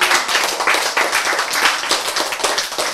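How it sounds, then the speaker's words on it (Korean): An audience at a health lecture applauds, a dense burst of many hands clapping close by that stays loud and steady throughout, with no voices over it. "박수."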